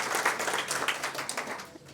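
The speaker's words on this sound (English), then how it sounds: "Give them a round of applause." A crowd at a National Equal Pay Day gathering in Washington breaks into applause, steady clapping from many people that tapers off after about two seconds.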